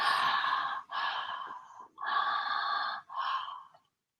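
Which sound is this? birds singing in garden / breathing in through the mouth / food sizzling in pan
breathing in through the mouth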